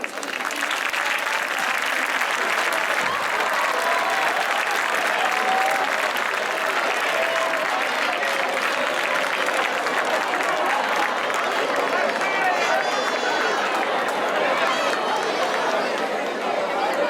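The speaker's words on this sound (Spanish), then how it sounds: "Un aplaudiment per ells." An audience claps in sustained, dense applause at a live music event in Vilanova de la Barca, with crowd chatter and voices mixed in throughout.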